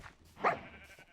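A sheep bleats once at a video game farm, a short nasal cry standing out over a quiet background with faint ambience.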